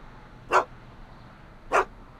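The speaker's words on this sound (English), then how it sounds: "Why couldn't Doc have invented a dog translator?" Dog barking in the Back to the Future video game, two short, sharp barks spaced about a second apart over a quiet background.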